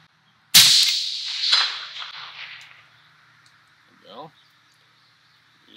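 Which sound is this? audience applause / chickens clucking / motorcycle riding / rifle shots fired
rifle shots fired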